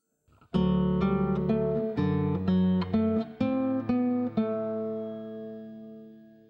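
Acoustic guitar plays the fourth measure of Jesu, Joy of Man's Desiring in drop-D tuning, a short run of clear plucked notes over a sustained low bass, ringing out and fading alone at the end.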